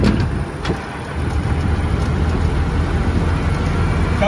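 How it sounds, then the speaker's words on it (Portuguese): A truck drives nearby while the listener rides in an open-top 1966 Jeep Willys, a steady low engine rumble with wind and road noise throughout. "Meu pai tá dando um rolê de caminhão ali"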